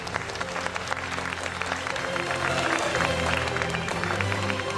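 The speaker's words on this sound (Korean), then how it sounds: "준우승 김준호 선수에게 박수 보내주십시오." A crowd at a StarCraft GSL Super Tournament final applauds the runner-up, a broad wash of clapping and cheering that swells slightly partway through and stays steady, with a faint announcer voice underneath.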